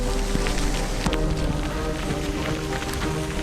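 Mixed snow and hail falls steadily during a mountain-bike ride in snowy conditions, a dense, even patter of pellets striking surfaces close by throughout, with no voices.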